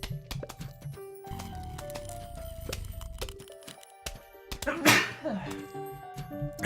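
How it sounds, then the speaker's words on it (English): One sharp human sneeze bursts out near the middle, set against bright, plinking Plants vs. Zombies game music and effects, with a voice talking before and after. "I definitely have to sneeze."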